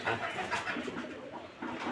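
Rooftop pigeons give low, throaty coos in overlapping bursts, fairly close and steady against a noisy background of other birds.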